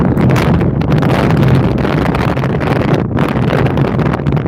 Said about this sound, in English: Robin, that wind gust came out of nowhere